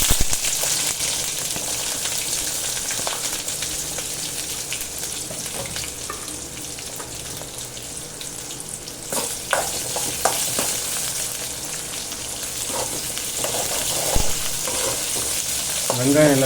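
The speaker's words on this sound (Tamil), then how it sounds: "வெங்காயம் எல்லாத்தையும் நல்லா வதக்கிக்கலாம்." Small onions sauté in hot oil with a loud, steady sizzle and crackle up close, with occasional scraping clinks from stirring.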